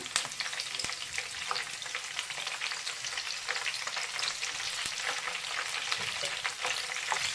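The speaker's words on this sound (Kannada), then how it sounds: "ಈಗ ಇದರಲ್ಲಿ ನಾವು ಸ್ವಲ್ಪ ಗ್ರೀನ್ ಚಿಲ್ಲಿ ಹಾಕ್ಕೊಂಡು ಫ್ರೈ ಮಾಡ್ಕೊಳ್ಳೋಣ" Green chillies frying in oil for gobi pakoda, a bright crackling sizzle with scattered pops and stirring scrapes, steady and close with no voices.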